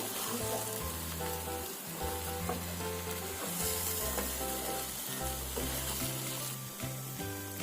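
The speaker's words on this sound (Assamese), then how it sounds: "এতিয়া এইখিনি ভালদৰে মিক্স কৰি দিম মছলাখিনি" Fish egg masala frying in a pan as it is stirred, a dense close sizzle with scraping stirs and spatters, while music plays steadily underneath.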